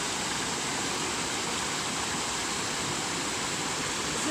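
Stream water flowing along the Camino de Santiago Frances between Bizkarreta and Urdaniz, a steady, dense rushing wash that stays constant and close throughout, with no voices.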